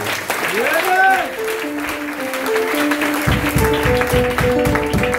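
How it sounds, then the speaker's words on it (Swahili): Rhythmic audience clapping at a church praise-and-testimony gathering rises in the second half, under a sustained tonal voice or music that carries through the whole stretch. "Pigie makofi jamani."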